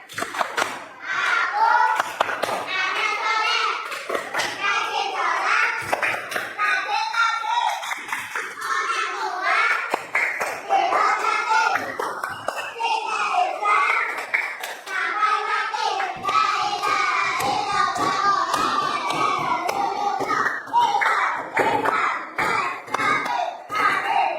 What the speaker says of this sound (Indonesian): tepuk anak soleh yuk